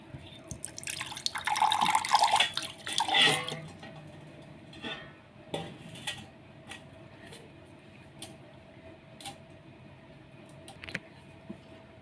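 Cold water pours into a container for a yogurt lassi in a short splashing burst, then scattered drips and light clinks follow, all close and fairly quiet.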